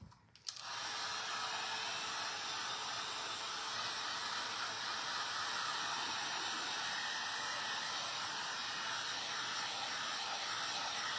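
A hair dryer blows steadily and loudly over wet paint and Mod Podge on a garbage can made from a dishwasher pod container, starting with a brief click and running as a continuous whooshing hiss with no talk.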